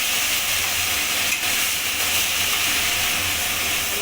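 Continuous loud sizzle and hiss of a spice paste frying in a hot wok for a fish curry, steady throughout with no talking.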